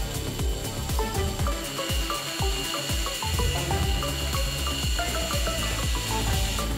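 Plastic LEGO car wash washing machine mechanism running steadily, with dense clicking, ratcheting and rubbing of moving parts over a continuous mechanical whir, close and fairly loud throughout.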